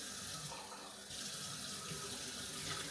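A steady rush of tap water running into a sink as a paint brush is rinsed, continuous and close, with faint splashing and no talk.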